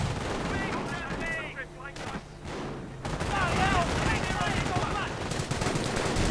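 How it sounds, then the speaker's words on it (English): Rifle grenades and rapid gunfire crackle through a World War II video game battle, with dense overlapping shots and bursts at a constant loud level, a short lull midway before the firing intensifies again. "Rifle grenades flying through the air."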